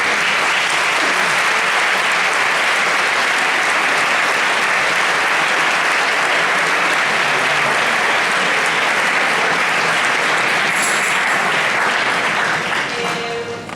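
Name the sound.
audience applause at Christmas concert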